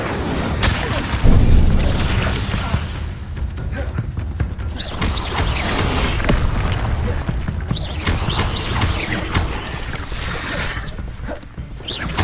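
Incendio and Expelliarmus are cast over and over in Hogwarts Legacy, producing continuous booming magical blasts, whooshes and crackles during a busy combat scene, with dense overlapping impacts throughout.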